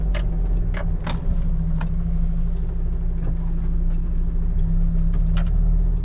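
Steady low engine rumble and road drone from inside a truck cab travelling on a road in Germany, with faint scattered clicks and ticks on top, continuous throughout.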